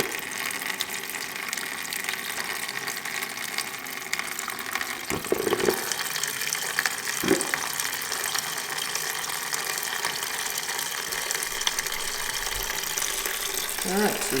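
Coolant draining from a Kawasaki ZX6R motorcycle, a steady trickling, splashing stream running continuously into a container, with a couple of faint clunks.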